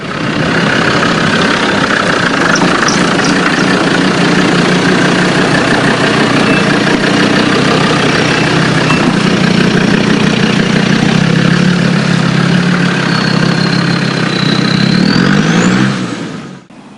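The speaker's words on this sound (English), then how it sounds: "the vehicle will drive straight out of here now" An off-road vehicle's engine labours and revs steadily as it drives out of a deep rut on an off-road driving course, loud and close, with a sustained mid-low drone and a rising whine near the end.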